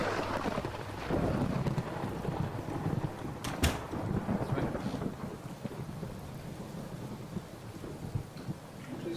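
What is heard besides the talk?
thunderstorm with rain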